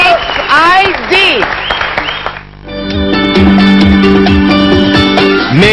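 Studio audience applause for a pop group fills a television show, loud steady clapping first under a host's voice, then continuing as music swells in.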